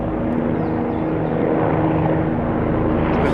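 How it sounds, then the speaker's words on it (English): Helicopters circling over the Roman Forum in Rome during a demonstration, a loud, steady rotor drone with a low rumbling hum that holds evenly throughout, close overhead and alone without talk. "that's why we have helicopters going around."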